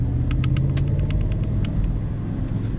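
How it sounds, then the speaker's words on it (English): A 2017 GMC Yukon Denali's 6.2-liter V8 rumbles steadily at close range, a deep continuous grumble with faint light clicks on top and no talk. "I just love how it rumbles and grumbles"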